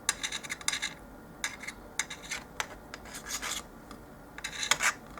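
A blade slicing through a polymer clay cane for a doll-size orange, heard as close, dry rasping and scraping strokes in irregular bursts with short pauses between them.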